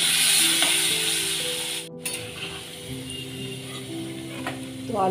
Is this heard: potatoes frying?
yes